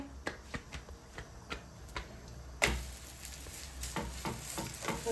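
A paneer paratha is laid on a hot griddle and frying: a steady oily sizzle begins abruptly partway through and carries on close by, preceded by soft ticking and clicking sounds.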